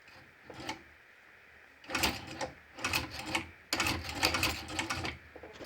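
A cobbler sewing machine under test runs in short mechanical bursts separated by pauses, the clattering needle action close and moderately loud with quiet gaps between runs.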